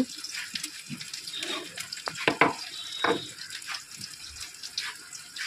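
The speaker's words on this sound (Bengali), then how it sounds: "পেঁয়াজটা একটু ভাজা ভাজা হোক।" Onions sizzle and crackle in hot oil, with a few sharper scrapes from stirring now and then; no one speaks.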